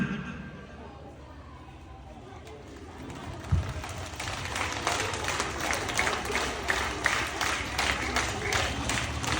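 A large audience rises to its feet and applauds for mimicry artist Kozhikode Devaraj, the dense crowd clapping swelling after a few seconds into loud, sustained applause, with a sharp thump early on and murmuring voices beneath.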